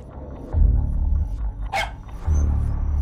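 A dog barks in a film trailer, a few short muffled woofs set low in the mix against a deep rumbling score and a brief whooshing effect, with no talking.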